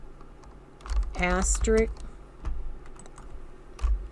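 Close computer-keyboard typing while building an expression in Microsoft Access, short scattered keystrokes mixed with a person talking.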